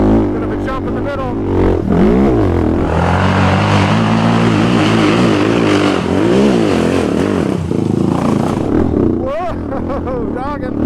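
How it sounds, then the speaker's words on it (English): A Honda 400EX ATV with a new Rossier exhaust pipe revs hard on a dirt trail, its loud, close engine note rising and falling in repeated throttle sweeps for the full stretch. "this new Rossier pipe sounds so cool on here. It's got such a great note"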